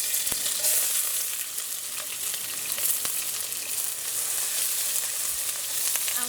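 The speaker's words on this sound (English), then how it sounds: "we're going to saute this until it's light brown in color" Aromatics for Trini curry shrimp sizzle steadily in a pan over medium-low heat, a continuous close frying hiss with occasional soft stirring clicks and scrapes.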